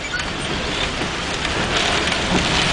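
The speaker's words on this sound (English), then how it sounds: "now it's just raining miserable" Heavy rain from a big June storm pours steadily in solid sheets outside a NAPA store, a dense, unbroken hiss, loud and close, with no voices.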